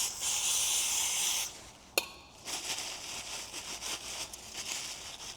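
Brake cleaner sprays onto an ABS wheel sensor of a 2002 Jeep Liberty, a close, loud aerosol hiss in one long burst, then a sharp click, then several shorter hissing bursts.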